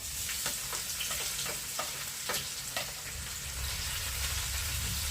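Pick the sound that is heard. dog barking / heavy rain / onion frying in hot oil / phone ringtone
onion frying in hot oil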